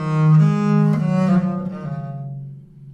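Viola da gamba bowing a bar and a bit of music ornamented with a French trill that opens on a long, strong appui before the rapid alternation, a sustained bowed tone that fades out by the end, played alone.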